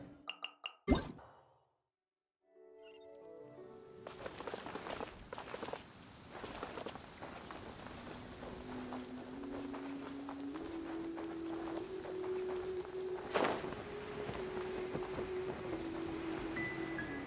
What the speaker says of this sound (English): Taking a stroll in the middle of a downpour.